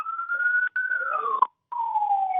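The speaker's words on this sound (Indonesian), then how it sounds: "Kami baru saja mendengar ada suara sirine" A siren wails with long falling and rising tones at a landslide search and rescue site in Cisarua, Indonesia, briefly cutting out between sweeps, fairly clear with nothing else around it.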